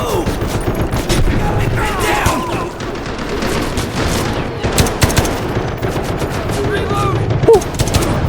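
Rapid bursts of gunfire in the video game Delta Force: Black Hawk Down crackle almost continuously with occasional booms, while a voice talks excitedly over the shooting.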